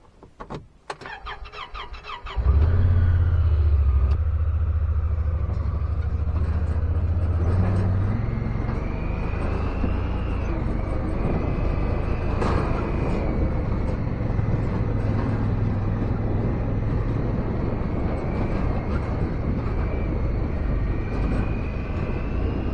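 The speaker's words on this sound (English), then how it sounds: "I'm going to fire up the side by side." A side-by-side utility vehicle engine cranks and catches after a few seconds of clicks and handling noise, then runs at a loud, steady idle close by.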